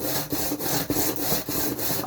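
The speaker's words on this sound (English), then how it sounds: "Anyway, that's the bread knifing." Straight razor edge being bread-knifed across a sharpening stone as part of restoring a wrecked Dovo inox razor: steady repeated rasping strokes, about seven in a row at even rhythm, close and fairly loud, with no talking.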